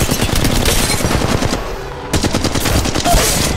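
Loud, rapid machine-gun bursts from Apex Legends Mobile hammer close up, one burst and a brief pause, then another sustained volley.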